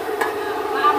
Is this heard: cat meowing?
no